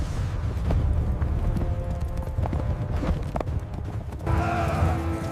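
Horse hooves gallop in a steady, rapid clip-clop rhythm over a low rumble, with no talk over them, rising slightly louder near the end.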